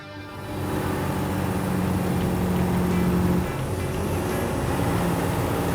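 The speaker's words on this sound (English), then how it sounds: "This thing just pulled a downshift from 8th to 7th, going from 1800 to 2300 RPM." A Western Star 5700XE truck with DT12 transmission engine braking on a desert road, a loud steady diesel drone that rises in pitch as it downshifts from 8th to 7th.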